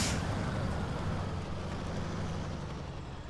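A truck engine idles steadily in the SnowRunner video game after a stall, a continuous low rumble with broadband noise that stays even and close throughout.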